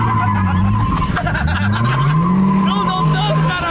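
A Nissan Skyline R34 drifting, its engine droning and sliding in pitch while tires squeal in sharp bursts near and loud, with people talking over it.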